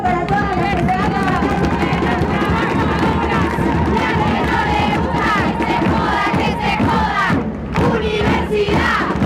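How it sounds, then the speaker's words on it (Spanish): Crowd at a Pan y Rosas rally at the 37th Plurinational Women's and Diversity Gathering, loud continuous cheering, shouting and chanting with clapping mixed in, dense and close throughout. "un fuerte aplauso para todas"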